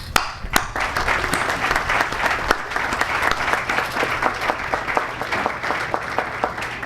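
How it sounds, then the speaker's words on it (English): Audience applause at a security services awards ceremony, a steady dense wash of many hands clapping close by for the full stretch, with a couple of sharper claps at the start. "Please applaud Corporal Billy"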